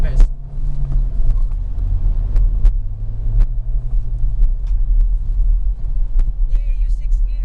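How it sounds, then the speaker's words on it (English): Inside a 2021 Hyundai Accent 1.4 GL with manual gearbox while driving, the engine gives a steady low cabin rumble and road hum, with someone talking over it. "Oh, engine and NVH is quiet here."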